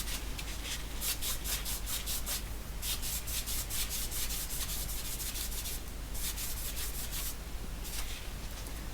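A cloth with cleaner rubs nicotine residue off old Siemens and Halske reperforator components, a close, steady run of rapid back-and-forth scrubbing strokes in bursts, with no talk.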